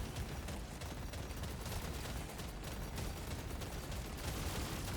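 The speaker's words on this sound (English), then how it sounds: "Just all that plasma shooting out right in front of us." Plasma weapons blasting nonstop in Deep Rock Galactic Survivor, a dense, loud, rapid-fire roar of overlapping shots with no pauses.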